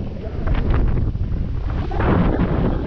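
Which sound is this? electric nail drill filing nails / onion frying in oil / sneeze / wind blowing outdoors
wind blowing outdoors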